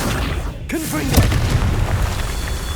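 A Confringo explosive spell blast from Hogwarts Legacy lands as a deep booming burst, loud and close, rumbling briefly over continuous game ambience.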